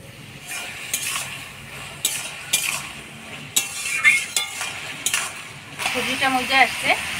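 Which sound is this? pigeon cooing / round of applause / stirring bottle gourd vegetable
stirring bottle gourd vegetable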